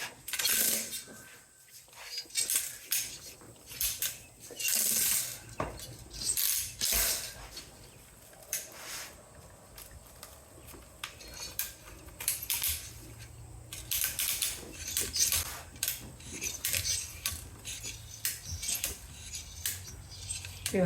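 Copper wire being cut in half with a knife while stripping it, a long run of scattered metallic snips, scrapes and clinks, close and uneven, with occasional louder bursts.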